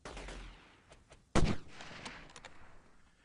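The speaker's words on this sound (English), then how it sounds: "the M40 is such a good rifle" A single loud, close M40 sniper rifle shot cracks out in a video game, ringing briefly before fading into faint, scattered distant shots.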